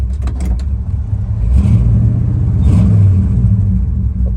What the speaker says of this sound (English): started hearing some clatter or racket that was louder than the 38 special I had on the radio